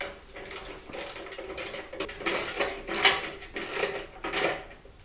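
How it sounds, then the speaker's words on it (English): A hand ratchet works bolts loose on a Harley-Davidson Street Bob 114 motorcycle, giving bursts of rapid clicking that rise and fall in short, uneven strokes, close by, with no talking. "you're going to want to go ahead and remove these two bolts here."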